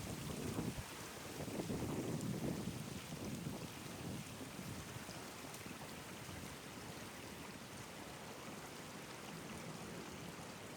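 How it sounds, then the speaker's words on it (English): Strong outdoor wind buffets a microphone in a continuous broadband roar, loudest in the first few seconds, then steadying into a constant rushing noise with no talk. "That's a crazy wind there."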